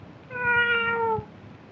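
A single cat meow in an indoor stage play, one clear, moderately loud drawn-out cry lasting about a second, heard alone without speech.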